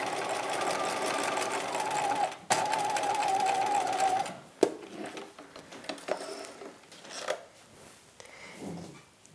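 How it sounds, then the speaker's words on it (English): A sewing machine runs gathering stitches along a halter tie for a '50s halter dress, a steady close mechanical whirr that stops partway, followed by softer handling clicks and rustling of fabric. "I'm stitching just from one end to the other on this halter tie"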